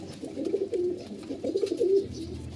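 Pigeons coo in a loft, soft throaty rolling coos repeating in two close bursts, near and fairly clear with no talking.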